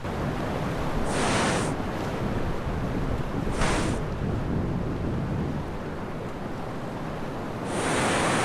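River water rushes around a raft in a remote canyon as a loud, steady broadband roar with wind buffeting the microphone, continuous throughout with no voices.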